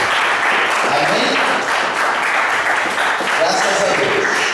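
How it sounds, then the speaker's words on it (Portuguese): Congregation applauding in a church, a dense, steady wash of clapping that fills the whole stretch at close range, with some voices mixed in. "você pode fechar a Bíblia aplaudindo o Senhor Jesus."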